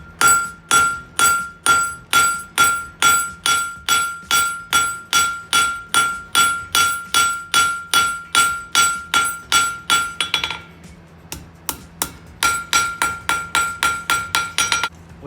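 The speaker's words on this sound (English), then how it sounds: "I'm going to use that shiny spot that I've already used before on my anvil. I'm going to put the tip right there," Close, loud, ringing hammer blows on steel over an anvil while setting down a shoulder for a forged coat hook, a fast even run of strikes, a short pause with lighter taps, then another quick burst.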